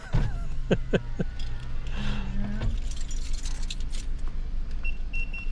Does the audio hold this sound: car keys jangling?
yes